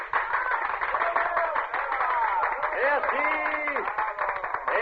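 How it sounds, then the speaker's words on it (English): Applause effect from an old-time radio drama, a steady crowd clapping filling the scene while voices and tonal sounds carry over it. "Then applause drew me from my unhappy revel."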